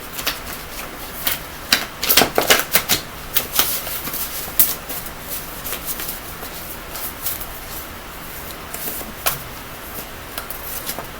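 A deck of cards is shuffled ahead of a card pull, with a burst of quick crisp riffling and snapping early on, then sparser flicks and taps, close and alone without talk.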